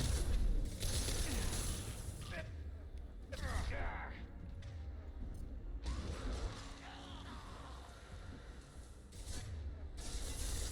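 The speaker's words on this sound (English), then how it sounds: "Just run up, close the shutter." A metal shutter rattles and creaks shut in the Mass Effect 2 video game, a mechanical clanking amid game noise and ongoing player talk.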